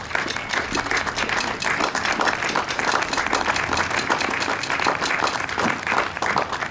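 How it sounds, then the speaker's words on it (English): Outdoor park concert crowd applauding, steady dense clapping that stays loud and close from start to finish. "Can we give her a round of applause?"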